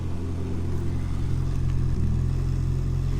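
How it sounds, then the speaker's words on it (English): Ford Escort RS Turbo idling after start-up, a steady low exhaust burble that stays loud and close throughout with a slight dip near the end. "Everyone likes a bit of exhaust noise, so thought I'd start it up quickly."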